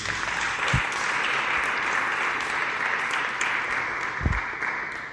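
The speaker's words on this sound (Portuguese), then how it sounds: "Vamos aplaudir o Senhor Jesus." A church congregation applauds steadily for about five seconds, a dense wash of clapping from a large crowd with no talk over it.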